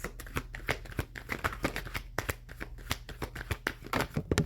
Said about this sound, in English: We're just going to give the cards a little bit of a shuffle